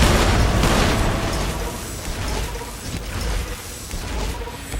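Grenade explosions in Fallout New Vegas roar as a dense, continuous wash of booming blasts, loud and close, with repeated bursts layered over one another and no talk.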